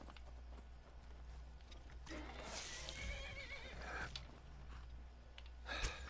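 A horse whinnies amid game-like ambience, with a low steady hum underneath and a few hoof clops and thumps scattered through.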